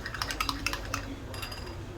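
A spoon clinks and scrapes against a bowl in quick, light taps while milk, cornflour and cocoa are stirred together, close and fairly quiet.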